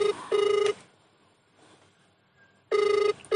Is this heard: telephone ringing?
yes